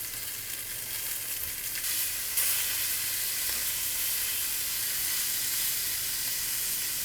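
Romaine lettuce leaves for a Caesar salad sizzle steadily in a hot pan, a continuous close frying hiss with a slight surge partway through and no talking.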